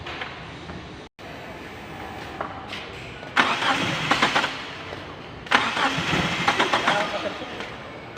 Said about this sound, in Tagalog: sinubok-subukan pa rin natin na pilitin natin siyang pa-startin